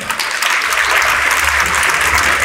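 A crowd at the Balkan Music Awards ceremony applauds steadily, dense clapping filling the whole stretch at a loud, even level with no voices breaking through.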